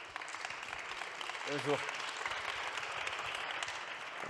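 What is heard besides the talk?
audience applause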